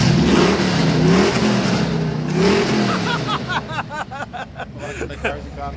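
A 1966 Toyota Stout truck with a Lexus V8 swap revving, the engine rising and falling under people talking nearby.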